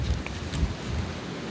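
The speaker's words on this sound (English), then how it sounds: "this wind is nobody's business up here" Strong wind blows outdoors on high ground, a steady, loud rushing buffet against the microphone for a brief moment, with no talking.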